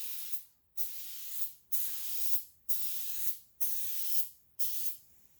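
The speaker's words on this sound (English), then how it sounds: "we're going to spray some of that red oil on here and let it soak for 20 minutes" Red oil sprays onto a K&N air filter in six short, even bursts of aerosol hiss held close, each followed by a brief silent pause.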